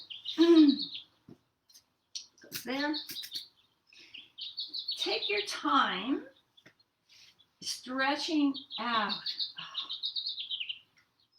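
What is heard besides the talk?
birds chirping outdoors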